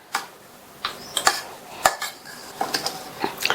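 Rava puttu being mixed with sugar and grated coconut in a metal vessel, heard as a series of short, sharp spoon-on-metal clicks and scrapes in an irregular rhythm, close and fairly quiet.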